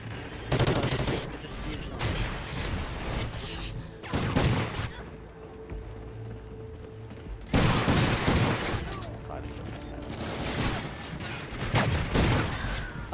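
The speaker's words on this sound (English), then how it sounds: "that was a really slow shooting gun" Heavy shots from a slow-firing gun in a shooting video game, several loud booming bursts spaced seconds apart with crashing impacts between them, while a player talks throughout.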